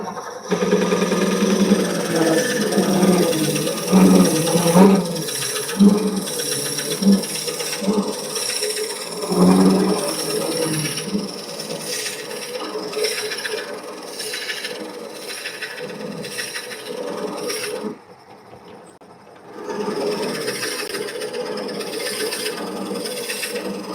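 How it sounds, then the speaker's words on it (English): Wood lathe turning a wooden bowl, a steady close rasping scrape of the tool on the spinning blank that catches and stalls, dropping to near silence around the eighteenth second before the grinding resumes. "It catches and the lathe will shut down because it's too much torque."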